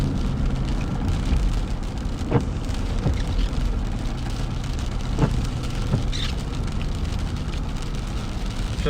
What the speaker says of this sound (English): We're definitely getting rain now